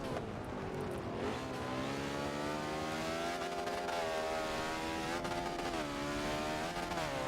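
Race cars lapping Brands Hatch in Forza 7, engines holding a continuous high rev with rising and falling pitch as several cars run close together, steady and fairly quiet throughout.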